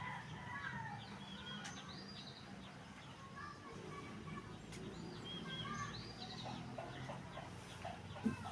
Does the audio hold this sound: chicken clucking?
yes